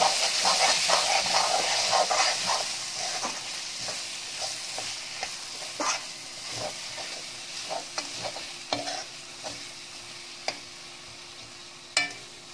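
Meat masala and Kashmiri chilli powder being stirred in a hot frying pan for spicy chicken curry, a dense sizzle and hiss with repeated scraping strokes and spatula taps, growing sparser toward the end.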